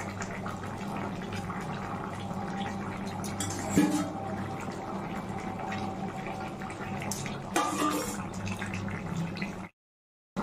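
Rohu fish pieces go into a simmering cauliflower fish curry, giving a continuous bubbling, sizzling wash of liquid with a couple of louder splashes, ending abruptly in silence.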